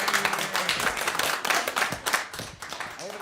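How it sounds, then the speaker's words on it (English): A small crowd at a community media center open house claps briefly, with scattered, moderately close hand claps and faint voices underneath. "How about a round of applause for that"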